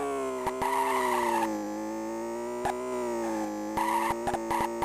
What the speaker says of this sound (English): The car makes such terrible noise when I'm trying to start it in manual